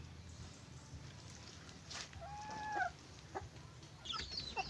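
Chickens and chicks on a backyard farm flock, with a couple of short, clear bird calls and chirps rising over a quiet, rumbling outdoor background, fairly close but sparse.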